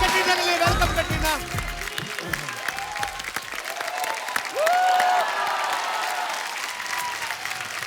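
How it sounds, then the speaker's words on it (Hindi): A comedy show studio audience welcomes a guest with loud, sustained applause and some cheering, while voices call out over the clapping at the start and it swells again midway. "जोरदार तालियां कैटरीना के लिए।"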